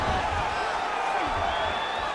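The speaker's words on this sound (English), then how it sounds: "crowd just loving it as the fighters, after an extended grappling battle, make their way back to the feet" Arena crowd in EA Sports UFC 5 roars and cheers as two fighters rise from a long grappling exchange, a steady dense swell of many voices with no break, moderately loud and close.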